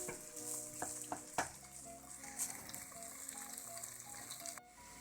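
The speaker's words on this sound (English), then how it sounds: "So we keep on browning now the tomato paste." Tomato paste browns in a pot for goulash soup, giving a soft, steady sizzle with a few clinks and scraping stirs, close and quiet.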